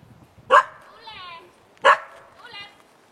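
Short loud dog barks, two distinct bursts about a second apart, during a recall exercise for a dog; a person calls out between them.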